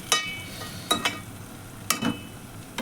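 A spice mixture is stirred in a hot pan, a spoon scraping in a few sharp separate strokes over a faint steady sizzle.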